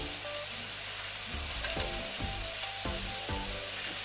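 Fried lentil dumplings (bori) tossed into a pan of betho saag with boiled potato, giving a steady sizzle of frying with a few soft thuds and stirring knocks partway through, no talking.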